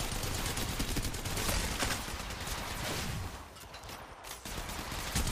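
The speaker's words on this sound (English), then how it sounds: "Opening fire" Gunfire in the mobile shooter Apex Legends Mobile, a dense rattle of rapid overlapping shots and bursts at moderate loudness that thins briefly near the end before picking back up.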